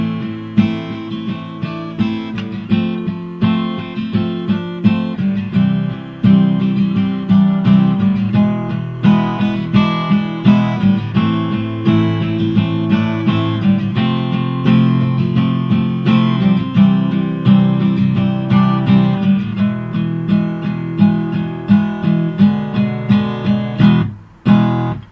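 Acoustic guitar plays the instrumental bridge, strummed chords with small melodic licks woven in, steady and close, solo with no voices, ending with a brief pause before the final strum.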